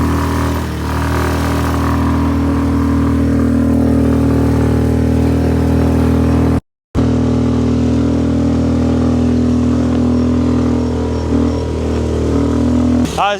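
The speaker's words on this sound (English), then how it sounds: "I'm praying that this bike gets me to where I need to go" A motorbike engine labours steadily and loudly up a steep hill through a Balinese jungle, holding a strained, droning pitch with one brief cut to silence midway before the engine resumes.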